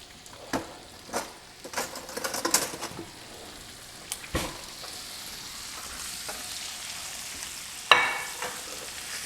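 Shrimp frying in a pan, a steady soft sizzle with intermittent stirring scrapes and clicks, fairly close and without talk.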